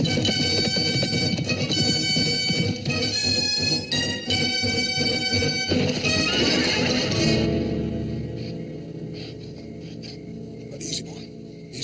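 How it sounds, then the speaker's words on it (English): A horse whinnies loudly and at length in a 1960s frontier western drama, the high drawn-out call filling the first seven seconds before fading into quieter background sound. "thank you for the horse"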